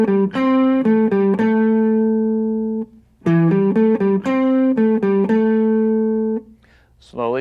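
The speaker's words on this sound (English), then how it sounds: "Lick number 2 is played on the 5th, 4th, and 3rd strings, and it sounds like this." A guitar lick picked on the fifth, fourth and third strings, with two phrases of clear, sustained single notes played close and loud. A brief gap separates the phrases, and the last notes ring out to a quiet end.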